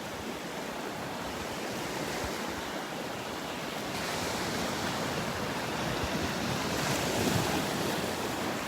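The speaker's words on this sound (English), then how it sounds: "They're right along the sandbar where the water's breaking, where the waves are breaking" Ocean waves break along a sandbar at Delnor-Wiggins beach, a steady, dense wash of surf that swells slightly toward the end, with wind buffeting the microphone and no voices.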